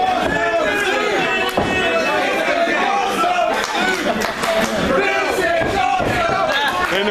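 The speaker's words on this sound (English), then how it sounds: "And the crowd is giving it to both competitors." Wrestling crowd at a US Championship tournament semi-final match shouting and cheering in a dense, continuous roar, with occasional sharp thuds and claps, while a commentator talks over it.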